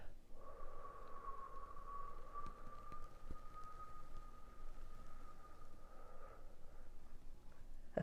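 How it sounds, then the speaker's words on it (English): A long, soft, unforced exhale through pursed lips during a relaxation exercise makes a quiet, steady airy hiss that runs for several seconds, close and gentle. "that nice, long, soft, nothing to force about it exhale through those pursed lips"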